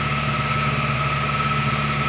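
A vehicle engine holds steady at about 2000 RPM while its exhaust is cleaned with a catalytic cleaner, giving a constant, close, even hum with no variation across the short stretch.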